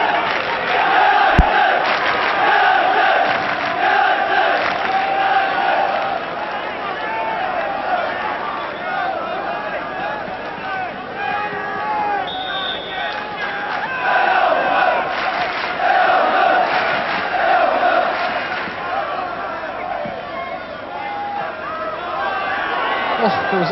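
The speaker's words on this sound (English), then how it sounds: "big cheer from the travelling fans" Travelling fans cheer loudly at an AFC Bournemouth versus Sheffield United football match, a sustained roar and chanting from a big crowd that swells and dips throughout.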